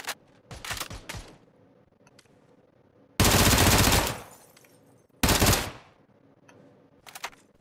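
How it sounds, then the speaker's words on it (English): Gunfire in a zombie survival video game: two long, loud bursts of rapid automatic fire, each about a second, separated by quieter scattered shots and game noise, with a few short sharp cracks at the start and end. "I hear more shots."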